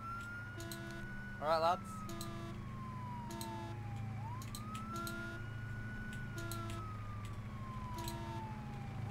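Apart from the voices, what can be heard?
police car sirens in the video game ARMA 3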